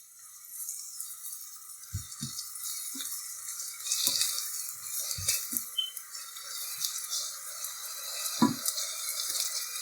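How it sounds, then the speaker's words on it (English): Sugar is stirred in a pan for sweet and sour chicken: a faint, low sizzle runs under scattered scrapes and knocks of a utensil against the pan. "you can go ahead now and add your sugar, okay? Keep mixing it because you don't want it to burn"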